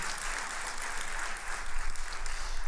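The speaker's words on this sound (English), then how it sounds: "And one more round of applause for the kids." Sustained applause from a concert audience at a high school winter band concert, cheering the student band with dense, steady clapping that swells slightly toward the end, with no voices over it.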